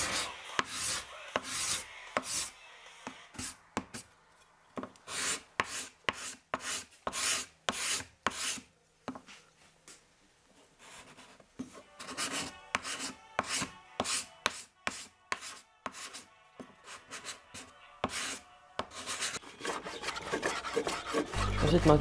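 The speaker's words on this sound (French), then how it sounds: "Puis au racloir." A cabinet scraper works the wood of a Les Paul guitar neck and headstock in repeated sharp rasping strokes. The strokes come in uneven bursts with short pauses between them, close but fairly quiet.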